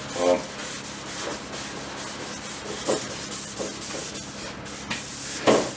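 Primer on a Factory Five 33 hot rod's hood and doors being hand-sanded, a continuous close gritty rubbing hiss with rhythmic strokes and occasional brief louder swipes, alone without talk.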